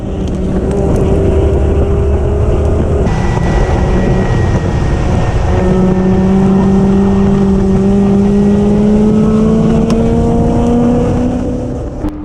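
A Chevrolet Caprice with a T56 manual gearbox lapping Buttonwillow racetrack, its engine droning loud and continuous from inside the car as revs climb through a gear change and rise again.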